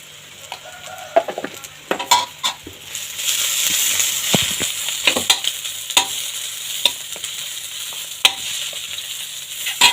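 Village-style noodles with ginger-garlic paste stir-frying in a pan: a steady close sizzle with repeated sharp scrapes and clinks of a spatula, a faint rooster crowing far off.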